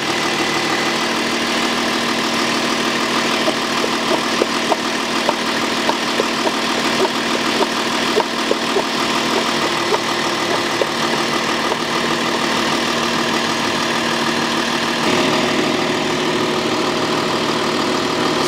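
A 2008 Audi Q7 3.0 diesel idling steadily and close up during an automatic transmission oil change, a constant rumble with fine rhythmic clatter and no talk.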